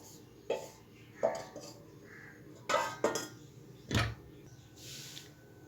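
Tamarind chutney scooped from a pot into a bowl, with a few separate clinks and knocks of a spoon against metal and ceramic dishes, fairly close and quiet, with pauses between.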